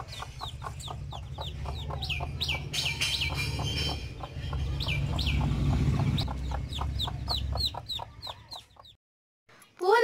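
Hens and chicks cluck and cheep continuously at close range, rapid high peeping over lower hen clucks, before a sudden quiet near the end.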